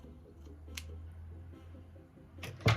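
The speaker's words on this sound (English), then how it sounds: "I'm just gonna go ahead and cut off my lace." Scissors trim the lace on a 20-inch water wave wig, giving a few soft, close snips and one louder crunching cut near the end over a low background hum.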